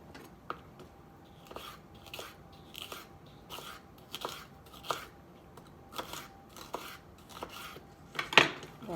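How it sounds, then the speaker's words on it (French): Knife chopping vegetables for vegetable tacos on a cutting board, a steady series of crisp, fairly close cuts roughly every half second, ending with one sharper, louder chop, with no talk. "On va terminer de couper les légumes"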